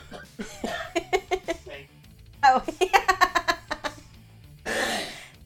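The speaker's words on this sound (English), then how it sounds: "He's laughing and coughing. He must have breathed his own spit." A man laughs in bursts then coughs, as if choking on his own spit, close to the mic, with other speech in the clip.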